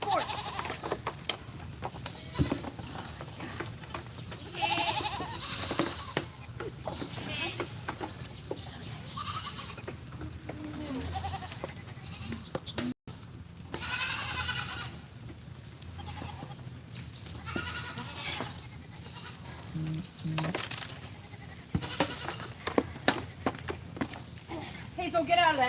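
Goats bleat at a farm during feeding, heard close by amid footsteps and shuffling, with a person talking and breathing heavily throughout.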